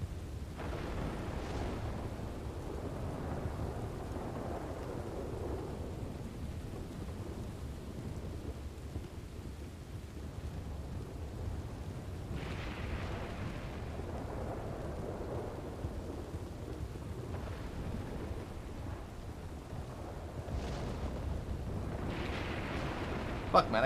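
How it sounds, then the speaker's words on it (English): Heavy rain pours steadily and loudly, with deep thunder rumbles rolling underneath and a few louder swells of downpour, continuous throughout. "I cannot hear myself think over this fucking rain"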